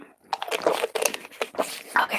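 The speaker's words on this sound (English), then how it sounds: "sorry if my drinking was loud. I have a loud drinking" Loud gulping and slurping of water, several wet swallows in quick succession, close to the microphone.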